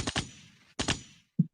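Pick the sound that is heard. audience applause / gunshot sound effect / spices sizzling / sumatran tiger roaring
gunshot sound effect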